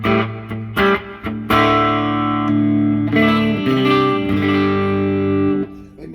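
A 1965 Epiphone Pacemaker guitar plays sustained chords and single notes through a Kendrick speaker with reverb added, the notes ringing out and trailing off in a wash of echo.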